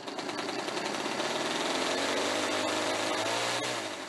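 Tiny Cri-cri homebuilt aircraft engine, a large 200 cc brushcutter-type engine, running steadily and loudly close by, with a dense buzzing drone that holds throughout without pause.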